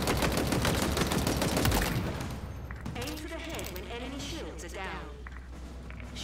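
Commando rifle in Halo Infinite multiplayer: close, dense rapid-fire bursts for about two seconds, then the shooting stops and someone talks over faint game sounds and footsteps.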